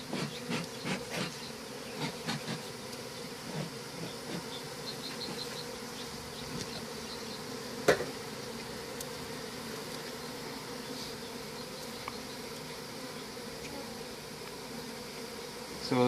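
Honeybees buzz steadily around a beekeeper working the hives, a dense, even drone of many insects with a few faint knocks and one sharp tap near the middle.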